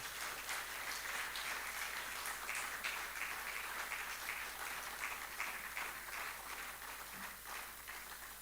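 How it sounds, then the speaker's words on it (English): Audience applause at a Nigerian forum on just transition, honoring Chief Eric Doe; a steady, dense wash of clapping runs throughout at moderate distance, even and unbroken. "Please, a round of applause for Chief Eric Doe."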